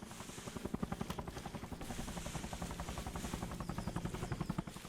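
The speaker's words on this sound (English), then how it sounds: "Here comes that helo." Military helicopter approaching during an army training exercise, its steady rhythmic rotor thump growing slightly stronger over a broad engine roar, continuous and fairly near.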